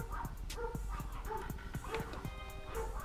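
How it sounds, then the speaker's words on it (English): Neighbour's dogs bark and yip in repeated sharp bursts with some whimpering, fairly close and insistent, alongside faint indoor sounds. "the dogs bark every time somebody walks past"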